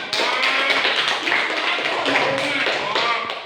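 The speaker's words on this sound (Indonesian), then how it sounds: "tepuk tangan" Students in a university civics class clap together, a lively run of sharp, close hand claps with an uneven rhythm that holds for several seconds before tapering off.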